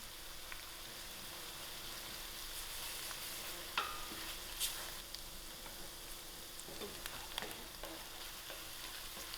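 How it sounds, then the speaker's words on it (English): Onions fry in a pan with a faint, steady sizzle and occasional soft crackles and small stirring knocks, heard alone. "My onions are frying out"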